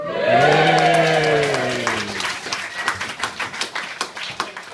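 At a wedding reception, guests give a sustained loud vocal cheer that fades into scattered, lively clapping and applause. The reaction follows the groom's speech.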